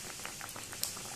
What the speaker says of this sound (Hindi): तो धीरे से हमें तेल में छोड़ना है और उलट पलट के इसे भी ब्राउन होने तक फ्राई कर लेना है।